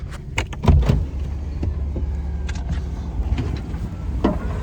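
Airlift airbag suspension on a pickup being aired down, heard as a steady low hiss and hum beneath scattered clicks and knocks, nearby and moderate in level.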